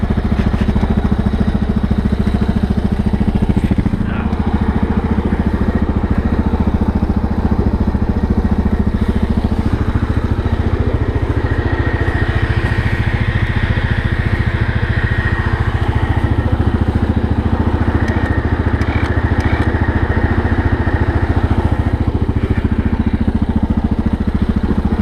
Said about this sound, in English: Let the winch do the work.